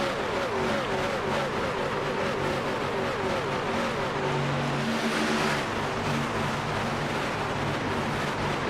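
Simulated race trucks roar around Kansas Speedway in a racing video game, a dense continuous wall of engine drone with overlapping pitches rising and shifting as the pack runs close together.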